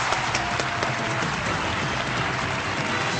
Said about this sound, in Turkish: Mide ve bağırsak hastalıkları uzmanı Profesör Doktor Kadir Demir'i alkışlarla davet ediyoruz.